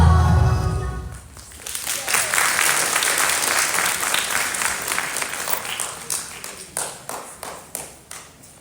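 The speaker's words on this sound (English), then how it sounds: "let's give them another round of applause" An audience applauds dancers at a dance production, a dense burst of clapping that follows the tail of a song, then thins into scattered individual claps near the end.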